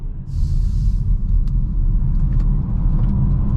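A 2024 Polestar 2 AWD Performance electric car accelerating, heard from inside as a loud, steady low rumble of road and motor noise with a few faint clicks, no talking.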